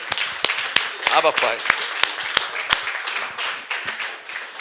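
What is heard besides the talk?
audience clapping in church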